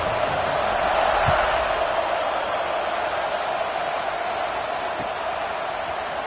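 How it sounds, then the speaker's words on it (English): A packed stadium crowd in a college football video game keeps up a steady, broad roar of cheering and chatter after a touchdown, sustained throughout with a few thumps. "this crowd is buzzing after that last score"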